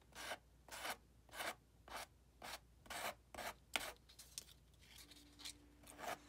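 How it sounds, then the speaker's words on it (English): Small piece of sandpaper rubbed over a lightweight spackle surface on a model railroad retaining wall, a close series of short rasping strokes at a steady rhythm, with no talking. "I'm using a small piece of sandpaper to smooth any rough or weird edges in that spackle surface."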